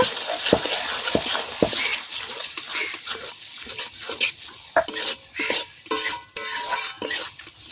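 Spice paste for a village-style mutton curry sizzles steadily in a pan while a spoon scrapes and knocks through it in irregular strokes, close and fairly loud.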